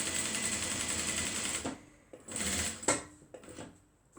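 Sewing machine stitching a crossbody mini bag, running steadily for about a second and a half and then stopping and starting in short bursts with small clicks between, close and moderately loud.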